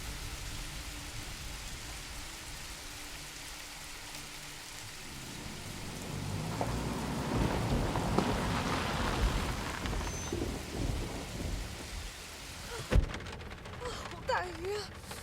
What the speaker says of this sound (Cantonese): 好大雨